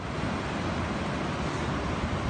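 Steady broadband rush of water at the entrance of a waterfall near Gökgöl lake, a constant roaring wash with no breaks, heard on its own.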